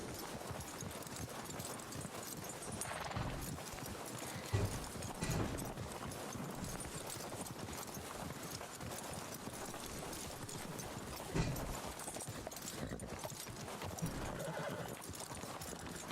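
Horse hooves clip-clop steadily over ground in the Western role-play game RedM, moderately loud, with a few sharper hoof strikes and no talk over them.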